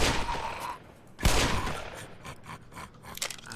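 Gunfire in Black Mesa: a rapid volley of shots fades out, then a sharp, close blast hits, followed by scattered cracks and shots trailing off.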